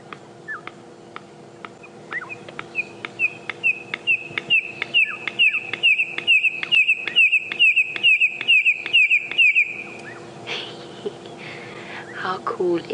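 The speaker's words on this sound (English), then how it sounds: "A red-crested korhaan doing his territorial call first thing in the morning" Red-crested korhaan giving its territorial call at dawn on a safari drive, a long series of sharp clicking notes that speed up into a rapid run of rising piping whistles, then stop, over a low vehicle hum with a voice briefly at the end.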